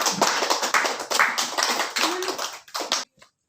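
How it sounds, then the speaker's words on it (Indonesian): Classroom students applauding a student group, a burst of brisk, close hand clapping with uneven rhythm lasting about three seconds before stopping abruptly into silence. "beri aplaus untuk kelompok Siska"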